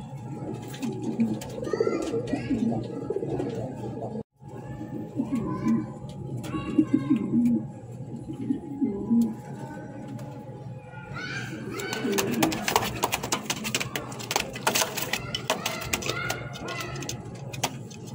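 Caged king pigeons coo repeatedly up close in low, rolling calls, while a person talks over them throughout.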